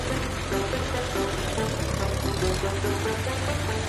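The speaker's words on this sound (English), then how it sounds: "Garbage truck." Garbage truck engine idling and rumbling steadily up close, a constant heavy low drone with a slight knocking pulse and no breaks.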